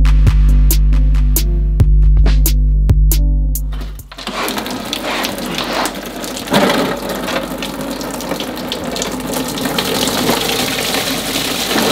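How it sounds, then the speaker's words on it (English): Coolant gushes from a disconnected radiator hose on a Mercedes GL450 into a drain pan, a steady rushing splash that starts abruptly after a few seconds of mechanical humming and clicks, close and continuous with no talking. "I'm gonna disconnect that so we can just basically dump the entire coolant down into my pan"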